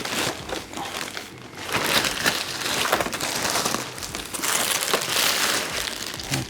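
Plastic packaging crinkles and crumples steadily around a Beatbot AquaSense Pro wireless pool cleaner robot as it is unboxed, with dense, close rustling and crackling that keeps going without pause and no voices.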